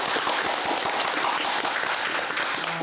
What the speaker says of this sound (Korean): 우리 용기의 박수를 한번 보내드리고 싶어요.